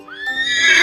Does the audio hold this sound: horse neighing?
yes